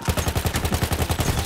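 A machine gun in the World War I shooter Battlefield 1 fires a rapid, steady burst of evenly spaced shots, loud and close throughout.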